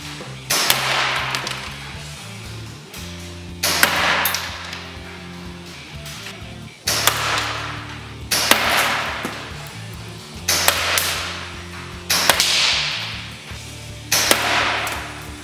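An ASG Ashbury ASW338LM airsoft sniper rifle firing 0.36 gram BBs: five sharp, loud shots spaced a few seconds apart, each a snappy crack with a brief decay, with mechanical clicks and handling noise between them.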